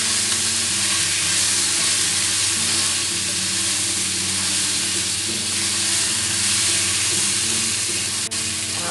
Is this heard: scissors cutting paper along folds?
no